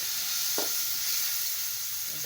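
Salt, chili, onion and garlic frying together in a pan, a steady close sizzle with a brief utensil clink near the start, continuous and without talking.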